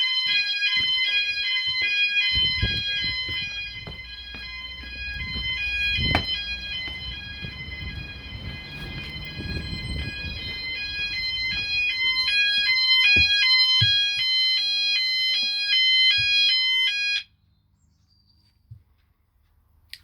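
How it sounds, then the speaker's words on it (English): E.M.S. FirePoint 5004 fire alarm sounders blare together in a loud, continuous electronic warble of stepped high tones, with a low rumble and handling noise beneath, then cut off abruptly near the end. "you've seen all the sounders go off"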